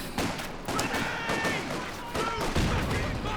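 Rapid machine gun bursts from a strategy game battle, sharp crackling volleys stacked densely over a few seconds, loud and close with a voice talking faintly underneath.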